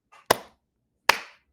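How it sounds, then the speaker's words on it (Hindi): Two sharp, isolated hand claps about a second apart, crisp and fairly faint, with silence around them, in a joint session of the US Congress. "तालियां।"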